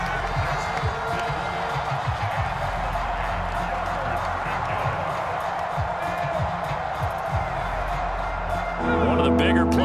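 A football stadium crowd roars in a Dolphins at Colts football video game, a steady, dense wash of cheering that swells near the end, with a commentator talking over it.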